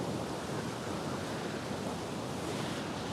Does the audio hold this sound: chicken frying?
no